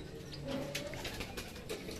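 Racing pigeons coo softly at a loft as they return from a 96 km training flight, low murmuring calls repeating against a steady outdoor background with faint wing flutters.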